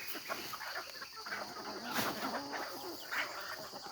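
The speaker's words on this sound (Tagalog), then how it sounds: "pakain muna tayo ng mga alagang manok natin" Soft, scattered clucking from chickens at a moderate distance, mixed with a steady hiss of insects and outdoor background noise.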